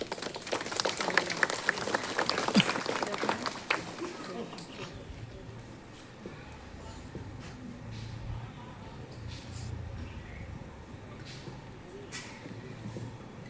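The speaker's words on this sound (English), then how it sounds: "With a round of applause, we welcome him" A church congregation at a Palm Sunday procession in Delhi applauds to welcome an archdiocese official, a loud burst of clapping for roughly four seconds that fades into a quieter room with scattered sounds.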